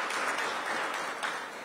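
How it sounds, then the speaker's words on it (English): Applause from the audience at a DC mayoral signing event with union representatives, steady clapping for a council member, moderately distant and fairly soft, lasting under two seconds. "Give Trayon a big round of applause"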